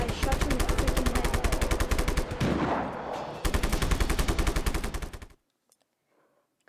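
Rapid automatic gunfire from the open-world action game Just Cause 3, loud dense bursts of shots continuing for about five seconds with a short dip midway, then cutting off to near silence with faint background sound.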